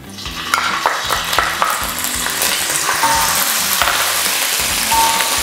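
Garlic dropped into hot oil crackles and sizzles loudly and steadily, a dense close-up frying hiss with sharp spatter pops and occasional clicks of a utensil, no one speaking.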